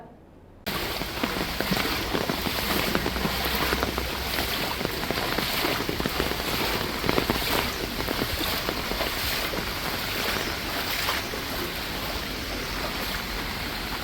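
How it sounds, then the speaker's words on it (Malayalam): Steady heavy rain pours continuously in Chavara, Kerala, a dense, even hiss with scattered drops and splashes, close and unbroken throughout with no voices. "ഇടവിട്ട് പെയ്യുന്ന മഴ ആശങ്കയ്ക്ക് ഇടയാക്കുന്നുമുണ്ട്"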